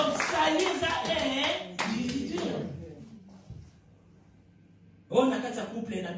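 A church congregation claps together in a loud burst, fades into a quiet gap, then breaks into applause again, with voices mixed in.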